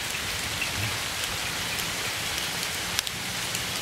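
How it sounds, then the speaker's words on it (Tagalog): Heavy rain pours steadily onto surfaces outdoors, a dense continuous hiss with scattered drop patter and no voices over it. "Lakas ang ulan, oh."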